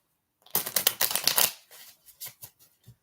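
A deck of playing cards is riffle-shuffled close by, giving a fast rattling burst of flicking cards followed by a few softer taps and pats as the deck is squared up.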